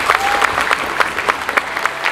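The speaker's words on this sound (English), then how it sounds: "we really need a warm clap of applause" Warm applause from an audience at an inspirational talk, a dense steady patter of many hands clapping, close and fairly loud, with faint voices beneath.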